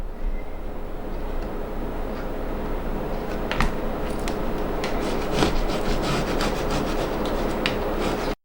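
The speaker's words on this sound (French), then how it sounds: "je vais tracer une ligne sur mon tissu doublure." Chalk or a marking pen traces a line across lining fabric, a steady close scratchy rubbing with a few brief sharper scrapes over a constant background hum, ending abruptly.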